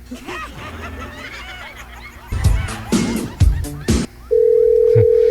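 A steady telephone dial tone comes in on a live radio call-in show as the host rings a listener on air. It sounds loud and continuous near the end, after a stretch of chatter and laughter.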